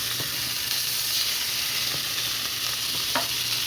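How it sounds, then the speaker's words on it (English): Garlic herb stuffed salmon sears in a hot pan with a steady, close sizzle and hiss, broken by a few soft clicks of a utensil. "Alright, I have seared it on the top."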